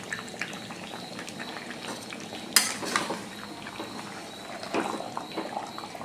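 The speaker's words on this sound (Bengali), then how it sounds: "বেরেস্তা দিয়ে আবার মিক্স করবো এটাকে।" Meat being mixed with crisp fried onions in a large pan, with a burst of metal utensil scraping and clatter midway, then softer stirring and a gentle bubbling simmer; no talking.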